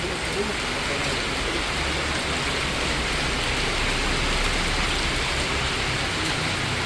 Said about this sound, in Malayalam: കൈസ് മഴ തകർത്ത് കേട്ടോ